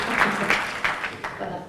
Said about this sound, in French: Ça mérite d'être applaudi aussi.